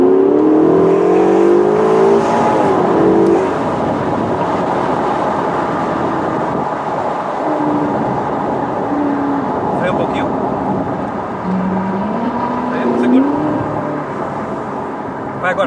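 A Ferrari California T accelerates on a test drive near Maranello, with a rising and falling engine tone and steady road rumble heard from inside the car as people talk.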